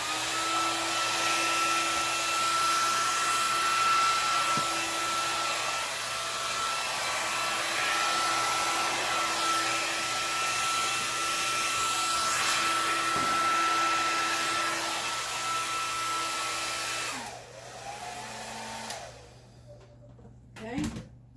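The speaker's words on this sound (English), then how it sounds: "I'm going to take the blow dryer again" A blow dryer blowing across an acrylic paint pour gives a steady, loud whooshing whir that runs for most of the stretch, then cuts off, leaving a few small knocks and handling sounds.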